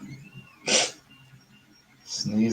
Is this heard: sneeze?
yes